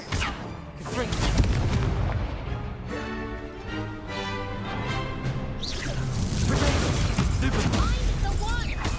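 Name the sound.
Confringo spell blasts in video game Hogwarts Legacy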